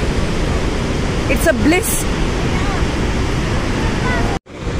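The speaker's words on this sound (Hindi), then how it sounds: "प्रकृति के बीचों बीच ये वाटरफॉल।" Steady broadband rush of Unchalli Falls near Sirsi, a big waterfall in forest, filling the whole clip with a dense roar while a voice speaks briefly over it.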